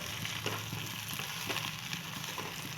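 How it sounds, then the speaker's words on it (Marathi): Sliced ridge gourd sautéing in oil in a heavy thick-bottomed kadhai gives a steady, close sizzle with faint scraping stirs throughout. "आता आपण तेलामध्ये सोडून घेतलेले सगळे काप हलके तेलामध्ये परतून घेत आहोत"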